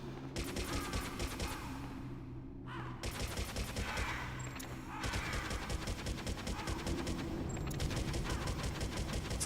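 Continuous rapid gunfire from weapons in Metal Gear Solid, dense automatic bursts with a couple of short pauses, steady and close throughout.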